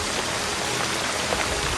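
Rain falls onto an umbrella and the surfaces around it, a dense, even hiss of drops that stays close and steady throughout, no voices.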